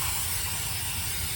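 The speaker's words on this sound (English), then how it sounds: "just spray out the inside where this park brake is" A spray blasts the inside of a car brake around the parking brake assembly, a loud, steady hiss that runs close up and unbroken throughout.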